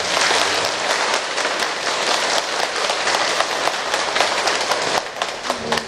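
An audience at a Buddhist dharma service in a Korean temple breaks into loud, sustained applause welcoming a senior monk, dense clapping filling the hall without pause.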